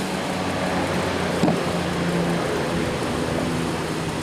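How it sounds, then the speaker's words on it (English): Truck noise outside a warehouse forms a steady low rumble and broadband hum, constant throughout with a brief knock partway through, no voices. "We're outside of our warehouse, so we've got a little truck noise and things like that."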